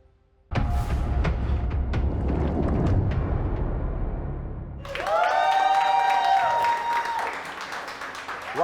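Studio audience on a television startup pitch show breaks into loud applause after a brief quiet, then cheering and whoops with music-like tones rise over the continuing clapping.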